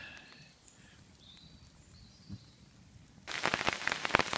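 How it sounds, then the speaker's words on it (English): Hailstones beginning to fall on a tarp over a hammock at a solo wild camp, arriving suddenly as a loud, dense crackling patter after a few seconds of quiet outdoor ambience. "And the hailstones have started."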